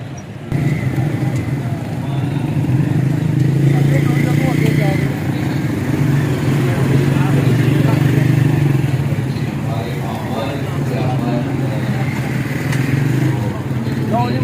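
Motorcycle and vehicle engines hum and idle steadily in a crowded parking area at a large religious institute, close and loud, with a continuous drone and clatter while people talk over it.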